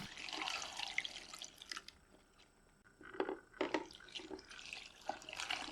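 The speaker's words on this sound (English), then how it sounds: "I pour in some room temperature water and give them a thorough rinse" Quiet splashing and sloshing of room-temperature water mixed with small crunchy, crackling clatters of eggshell pieces being rinsed, intermittent and close by.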